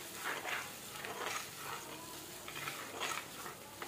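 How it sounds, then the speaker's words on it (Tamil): Chopped onion and ginger-garlic paste sauté in a pan with a soft, steady sizzle, broken by several bursts of stirring and scraping, heard close up and fairly quiet. "இஞ்சி பூண்டு அரைச்சி எடுத்து வந்து வச்சுருக்கோம், அதையும் வெங்காயத்தோடு சேர்த்து நல்லா வதக்கலாம்"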